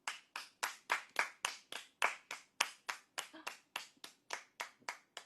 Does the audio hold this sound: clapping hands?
yes